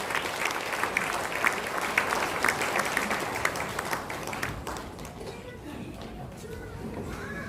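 A church congregation applauds during an elder and deaconess ordination ceremony: a full round of clapping that holds steady, then thins and fades midway into quiet room ambience.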